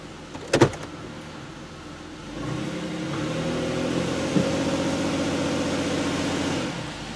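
A Pontiac Aztek engine idles steadily in reverse under load, a smooth, even hum with no misfire, preceded by a few brief clunks as it is put into gear.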